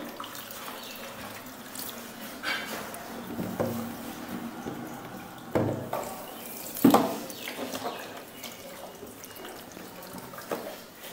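Water poured and splashing while a deceased body is washed for a funeral ritual, a continuous running trickle with occasional louder splashes, close and steady.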